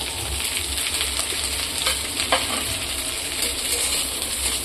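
Capsicum and onions fry in a pan with a steady sizzle, while occasional light clinks and scrapes of stirring stand out close by and no one speaks.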